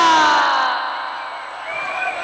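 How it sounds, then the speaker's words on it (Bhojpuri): A crowd at a Bhojpuri stage show cheers and whoops loudly for the performers, a dense roar that is strongest at the start and eases slightly, with a thin sustained tone running through it. "ताली बजा के स्वागत कीजिए इनको। तालियां।"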